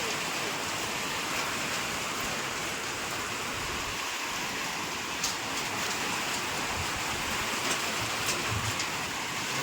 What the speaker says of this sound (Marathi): पाऊस आला का?